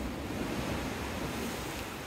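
Sea waves wash against the seawall along the Teignmouth seafront. A continuous rushing roar of surf is heavily mixed with wind buffeting the microphone, and no one speaks.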